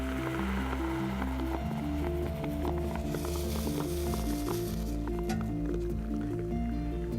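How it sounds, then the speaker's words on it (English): Liquefied natural gas boils while being poured into beakers, a continuous bubbling, popping and hissing with rhythmic low pulses throughout, loud and close. "the noise that you hear is rapid phase transition. It sounds like water boiling in a pan."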